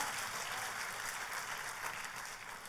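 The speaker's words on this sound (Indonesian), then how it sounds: "Tepuk tangannya yang paling meriah buat Tuhan kita." Church congregation applauding throughout, a dense, steady wash of clapping that fills the space evenly from start to finish without voices over it.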